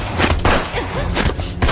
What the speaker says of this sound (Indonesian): Aksi pertarungan pistol dari jarak dekat pun tak bisa dihindarkan.